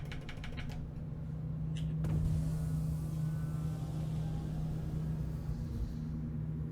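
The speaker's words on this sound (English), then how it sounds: "Landing gear deployed." Landing gear deploying on an RSI Constellation Aquila spaceship in Star Citizen: a steady low mechanical hum and rumble, with a few light clicks at the start and a heavier thump around the two-second mark.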